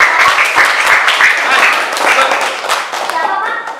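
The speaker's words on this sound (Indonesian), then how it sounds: "Tepuk tangan dong, keren bagus ini." Children in a primary school classroom clap together in a burst of lively applause, dense overlapping claps that swell and then ease off slightly, with young voices mixed in.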